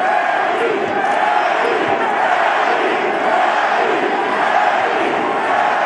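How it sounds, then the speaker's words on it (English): A large boxing arena crowd roars continuously during a professional boxing match, a dense wash of cheering and shouting that stays loud and steady throughout. "Just listen to that crowd. They're enjoying this."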